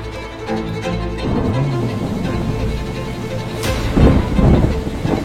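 Thunderstorm directly overhead while out on the water: loud rolling thunder rumbles over steady rain and wind, with a sharper crack and a heavy boom toward the end.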